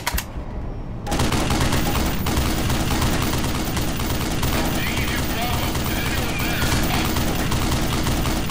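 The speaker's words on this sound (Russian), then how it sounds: "были выстрелы, та-та-та-та-та-та-та" Dense automatic gunfire in the video game Black Mesa: Blue Shift, a continuous loud barrage of rapid shots starting abruptly after a brief quieter moment and running without pause, with a voice talking underneath.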